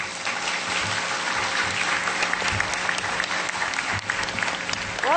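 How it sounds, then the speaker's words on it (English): A warm round of applause from an audience at a book launch event, many hands clapping in a continuous dense wash, steady and sustained from start to finish. "Let's welcome Clint with a big, warm applause."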